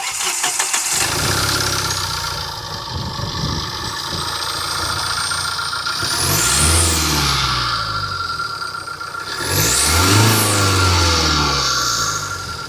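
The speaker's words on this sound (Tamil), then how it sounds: "இப்போ ஜஸ்ட் நம்ம இந்த வெஹிக்கிளோடைய இன்ஜின் நாய்ஸ் பார்ப்போம்." A Tata Hexa diesel SUV engine is revved twice from idle, each rise loud and close with a turbo spooling whistle climbing and falling, and no talking over it.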